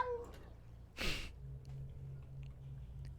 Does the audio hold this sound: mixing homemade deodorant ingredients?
no